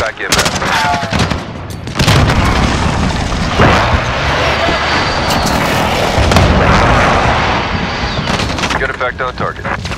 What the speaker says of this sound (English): Precision airstrike available.